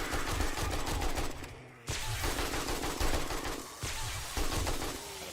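Rapid AK rifle fire from the video game 7 Days to Die, dense continuous bursts that fill most of the stretch, broken by a couple of short pauses, loud and close.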